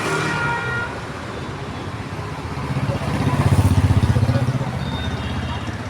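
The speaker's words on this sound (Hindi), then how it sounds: "सामने है ट्रैफिक का आना जाना" Road traffic passes in front of a temple during Navratri, a motorbike engine swelling loudly as it goes by, with brief horn toots over a constant roadway hum and faint voices.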